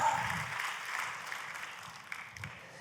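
A church congregation claps and cheers for Jesus, a steady broadband patter of many hands that slowly eases off over a few seconds.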